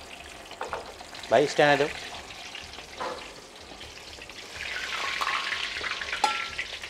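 Pomfret fish coated in white batter frying in hot oil, a steady crackling sizzle running throughout, swelling louder toward the end, with a person speaking briefly over it near the start.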